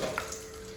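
Water squeezed by hand out of grated ash gourd (winter melon) gives a brief, faint splashing trickle, heard alone and up close.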